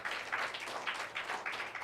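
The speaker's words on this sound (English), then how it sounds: "Welcome him with a huge clap" Audience at an entrepreneurial skills workshop clapping to welcome a speaker, a steady, moderately distant patter of many hands throughout the short stretch.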